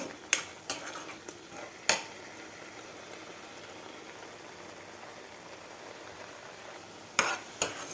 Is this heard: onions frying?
yes